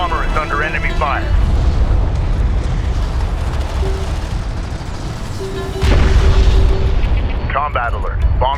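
Explosions and artillery fire in the video game Homeworld: Deserts of Kharak roll on as a steady, heavy rumble of booms beneath synthetic voice radio chatter.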